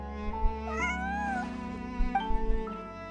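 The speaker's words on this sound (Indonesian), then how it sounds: "dia menggoyangkan ekor dan mengeong keras" A cat in the video game Genshin Impact gives a long, loud, drawn-out meow and then a shorter one, clear and close over a steady tonal background.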